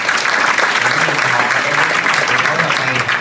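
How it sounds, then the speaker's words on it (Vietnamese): An audience at a Vietnamese talk-show-style event gives three speakers a loud, continuous round of applause, with a voice talking over the clapping. "cho ba vị diễn giả của chúng ta một tràng pháo tay thật lớn quý vị."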